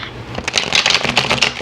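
A deck of tarot cards being shuffled by hand, a quick, close, crisp riffling burst of papery flicks lasting a second or so.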